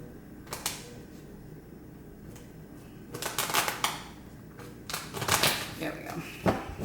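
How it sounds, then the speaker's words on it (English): Tarot cards shuffled by hand in irregular bursts of riffling and flicking, close and fairly quiet, with a voice speaking intermittently. "Hard to shuffle the deck, Taurus."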